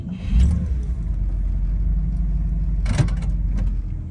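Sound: 1958 Cadillac Eldorado Brougham driving on a test drive

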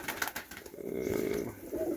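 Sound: pigeons cooing in a dovecote

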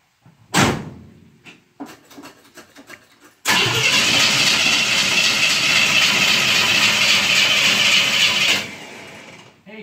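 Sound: 1970 GMC C20 truck engine starting

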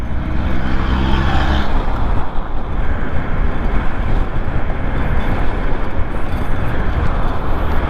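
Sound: Hsem Wings electric motorcycle riding at 70 km/h in third gear

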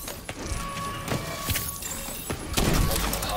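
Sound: rockets being fired in a video game

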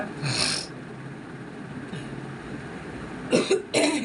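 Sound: cough

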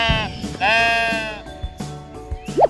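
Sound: sheep bleating, toy sound effect

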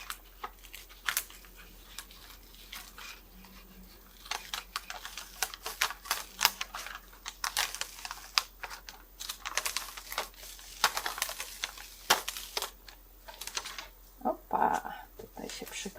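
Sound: peeling paper sheet off cutting mat

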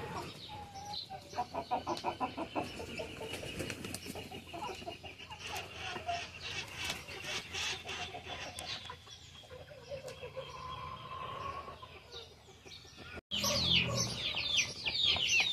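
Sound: chickens clucking

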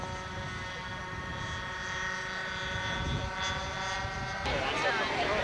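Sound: model Mustang aircraft engines at high speed

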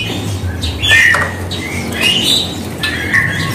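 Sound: caged bird squawking at bird market

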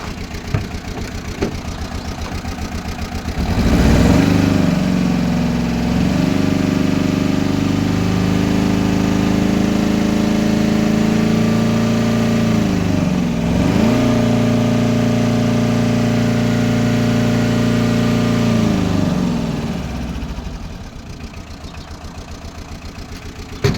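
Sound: Tata Ace mini truck engine revving

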